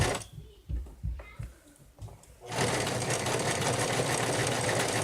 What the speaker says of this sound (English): I always sew over the fabric until it's going all the way through under the needle so that it comes off